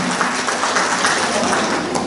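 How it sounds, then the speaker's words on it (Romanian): An audience at a Doina Oltului folk ensemble show applauds the orchestra with a steady, loud wash of clapping that holds evenly from start to finish. "Aplauze pentru orchestra de la Doina Oltului"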